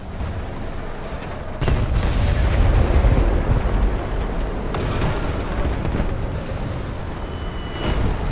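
Bombs exploding in War Thunder: a heavy, rumbling low roar that swells suddenly and holds, with further sharp blasts landing a few seconds apart, loud and fairly close, with no talk.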